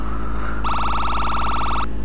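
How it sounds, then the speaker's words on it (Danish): A car horn in Garry's Mod sounds as a loud, rapidly pulsing wail of over a second, cutting in abruptly over a steady engine-like drone and then stopping. "Der er hornet!"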